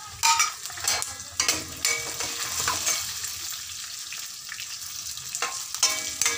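Coconut and tamarind sautéing in a pan for thoothuvalai chutney, giving a steady close sizzle and frying crackle with intermittent stirring scrapes, no talk.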